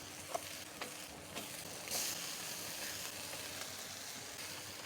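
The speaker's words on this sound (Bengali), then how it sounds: "এখন এই মাছগুলি একটা একটা করে দিয়ে দিব।" Pabda fish sizzle steadily in hot oil with a mustard spice paste, a constant soft frying hiss with a few faint clicks of stirring.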